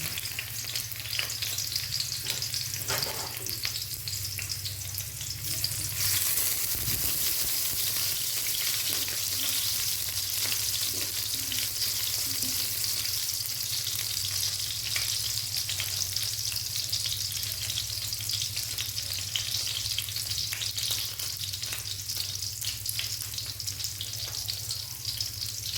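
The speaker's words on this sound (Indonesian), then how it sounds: "Setelah minyak panas, tuangkan bawang." Onions fry in hot oil for a milkfish and bamboo shoot curry, with a loud continuous close sizzle that stays even throughout, with occasional stirring scrapes.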